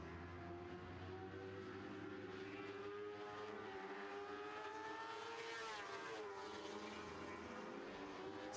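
Lightning sprint cars race around an oval track in a steady engine drone, with one car slowly closing on another and a rising, shifting whine midway, no talking.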